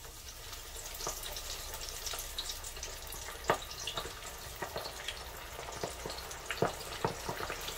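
Buffalo fish deep-frying in hot oil at around 380 degrees. A soft, continuous bubbling sizzle carries scattered sharp pops and crackles.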